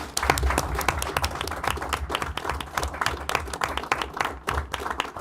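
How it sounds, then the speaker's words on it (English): An audience applauds steadily for a pair of honorees being sent off with well-wishes, a dense, continuous patter of many hands clapping close by for several seconds without talk. "let's give these two a round of applause"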